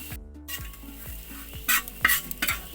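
Coriander powder and chili powder fry in a pan as a spoon stirs them, with a dry sizzle under repeated scraping strokes and a few sharper clatters against the metal near the end.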